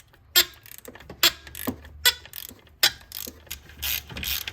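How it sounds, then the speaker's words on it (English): A wrench ratchets loose a bolt on BC Racing coilover suspension in a B7 A4, giving close, crisp bursts of clicking in irregular spurts with brief pauses between. "And this comes out with the wrench."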